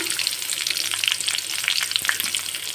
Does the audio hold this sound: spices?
yes